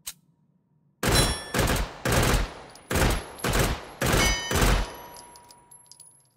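Rapid bursts of automatic gunfire from a high fire-rate gun in H3VR, about six tight bursts each lasting under a second, loud and close, starting after a moment of near silence.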